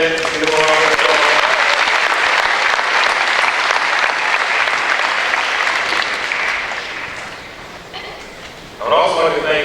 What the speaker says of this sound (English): Drill team and cadets, give them a round of applause.